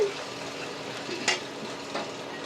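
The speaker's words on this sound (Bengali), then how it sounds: "একটু নাড়িয়ে নিয়ে" Red chili powder stirred into hot oil for a rohu fish curry sizzles steadily up close, with a couple of quick scraping stirs in the pan.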